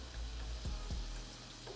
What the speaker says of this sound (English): my chicken is air frying